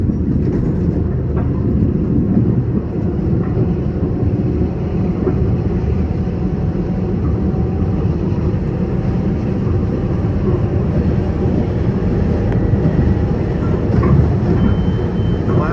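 An LIRR express train rolls up an elevated viaduct near the Jamaica maintenance complex, a steady loud rumble of wheels and rail noise with no talking.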